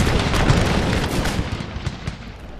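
Musket volleys from massed troops on an Empire: Total War battlefield, a rumbling wash of overlapping shots and booms that thins into scattered, spaced cracks toward the end.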